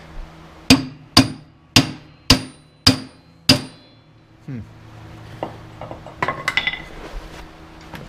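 Six loud, evenly spaced hammer strikes ring out up close, pounding a bearing out of a snowblower transmission, followed by quieter clinks and scraping of metal.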